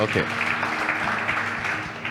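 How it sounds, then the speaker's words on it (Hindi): A church congregation gives a short burst of applause, dense clapping under a voice speaking over it, lasting about two seconds. "Give the Lord a big hand."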